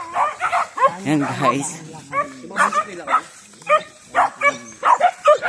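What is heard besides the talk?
dog barking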